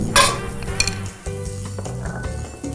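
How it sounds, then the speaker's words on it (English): Pancetta sizzles and crackles in a hot dry pan as its fat renders, with a few clinks and scrapes of a utensil stirring. "Hear the sizzling? You hear that? That's the rendering of the fat."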